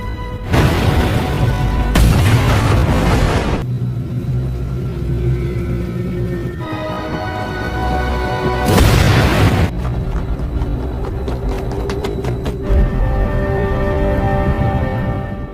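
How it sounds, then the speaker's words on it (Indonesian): A helicopter explodes in a film, loud explosions bursting out several times, each a heavy rumbling roar, with tense music playing between the blasts. "meledaknya helikopter"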